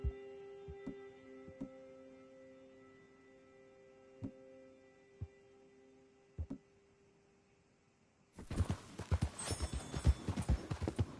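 Horse hooves clip-clopping in Red Dead Redemption 2, a few scattered hoof thuds over a steady low hum, then a burst of rapid, louder galloping beats near the end.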